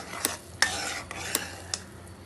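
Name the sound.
stirring boiling sugar syrup with cardamom for laddu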